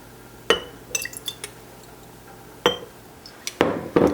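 Lemon juice is added to glass pint jars for water-bath canning tomato sauce, with sharp glassy clinks and knocks as a spoon and jars are handled, close by, plus a few softer taps.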